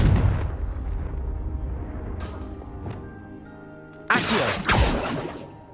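A Confringo blasting spell in Hogwarts Legacy hits with a booming explosive impact, then a decaying rumble with smaller cracks, followed by two more loud blasts and a trailing crash near the end.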